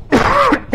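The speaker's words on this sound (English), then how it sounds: "excuse me, I've got a cough." A single short, rough throaty cough, close and fairly loud.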